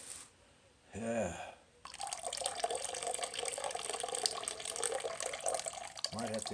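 Water pours and splashes steadily out of a tub of gold-panning concentrates from a silt scrubber, a close, continuous rush, with a brief voice just before it begins.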